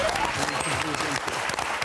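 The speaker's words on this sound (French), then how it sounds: "Excellente première partie de Florian et de Bernard qu'on va applaudir très fort." Studio audience of the TV word game show Motus applauding two contestants, a close, lively burst of clapping with a host's voice talking over it.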